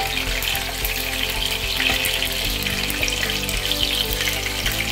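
Chicken frying in oil in a pan for a hotel-style chilli chicken, a loud, steady, dense sizzle with bubbling crackle that continues without a break and no talking.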